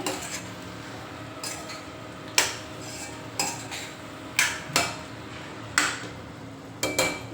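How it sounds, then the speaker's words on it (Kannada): A spoon clinks and scrapes against a pan in short, irregular strokes, close by, with quiet pauses between them, while stirring North Karnataka stuffed brinjal curry. "ಇದನ್ನು ಚೆನ್ನಾಗಿ ಮಿಕ್ಸ್ ಮಾಡ್ತೀನಿ"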